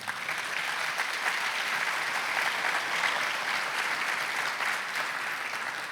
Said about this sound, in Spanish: Un aplauso fuerte a nuestro Dios.